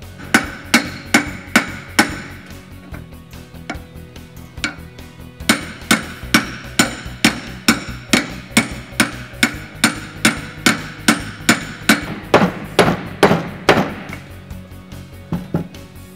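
A hammer drives a bearing cone into a wheel hub with a long run of sharp metallic strikes, close and loud, coming in a fairly steady rhythm with brief pauses.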